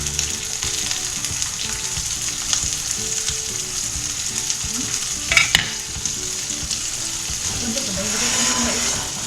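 Potatoes fry in a pan with a steady crackling sizzle, joined by occasional stirring scrapes and a brief clatter, while a voice talks quietly over it.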